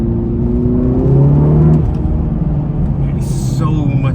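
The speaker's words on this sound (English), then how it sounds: "I can hear the turbos spooling up as well." Remapped Audi TT Mk3 2.0 TFSI quattro engine revving hard, a loud close rising roar with a whirring spool tone climbing over about two seconds before settling into a steady rumble.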